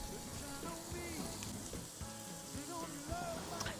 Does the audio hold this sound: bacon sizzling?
yes